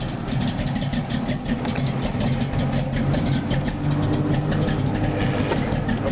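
A 2002 Impala fitted with a thumper cam idles nearby with a lopey, rhythmic chop, a steady uneven pulse running throughout with no voices.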